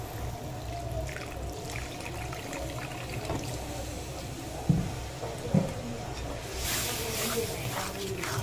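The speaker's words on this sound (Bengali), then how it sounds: "দিয়ে একটু জল দিয়ে দেব।" Water poured into a hot cooking pan, a low trickling and bubbling with a couple of sharp splashes midway and a brief hissing burst near the end, with quiet speech in the background.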